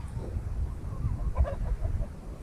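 A Buff Brahma hen clucks softly in a farm yard, low scattered clucks close by over a murmur of background noise.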